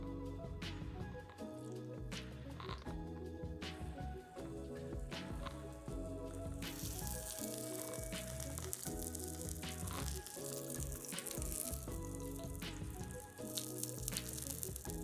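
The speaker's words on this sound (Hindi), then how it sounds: "और अब हम अपने जो बैंगन हैं उनको फ्राई करेंगे।" Eggplant slices frying in a pan over the flame, a soft, faint sizzle with scattered wet squishing and light popping throughout, no voices.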